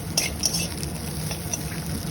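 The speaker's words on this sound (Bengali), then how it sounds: "বেশ অনেকক্ষণ ধরে নাড়াচাড়া করতে করতে যখন দেখবেন চিংড়ি মাছগুলো বেশ লাল লাল হয়ে ভাজা হয়ে এসছে" Shrimp frying in oil in a pan and being stirred, giving a steady sizzle with scattered scrapes and clinks of the utensil against the pan, close and moderately loud, with no talking.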